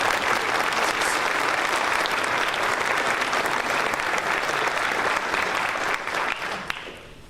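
A conference audience gives sustained, dense clapping in honor of the event's initiator, Sylvia, steady for several seconds before tapering off at the end.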